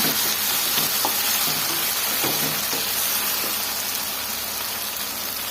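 Capsicum rice ingredients frying in oil, hotel style: a continuous, fairly loud hiss of frying with a few faint scrapes of stirring, steady throughout and free of speech.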